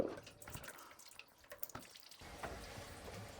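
Water runs from a home reverse osmosis filter hose, opening with irregular drips and splashes, then settling into a steady, close, moderate stream of flow.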